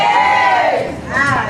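A party crowd cheers and whoops as the hosts take the stage, loud rising shouts and yells blending into a sustained roar close around.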